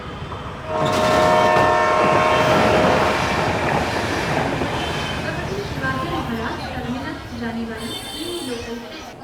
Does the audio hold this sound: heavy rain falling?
no